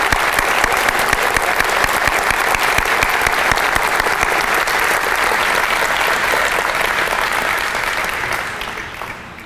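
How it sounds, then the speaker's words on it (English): A large crowd at the 2023 Elon athletics Hall of Fame ceremony breaks into loud, sustained applause, a thick wash of clapping hands that holds steady before fading out at the end. "Let's give them a round of applause."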